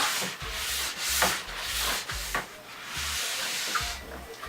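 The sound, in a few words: brushing waxed ski base from tip to tail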